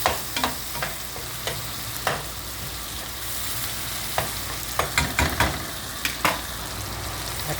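Garlic, onion and tomato sauté in a pan for a fish curry with spinach, giving a steady frying sizzle with repeated sharp clatters of stirring throughout.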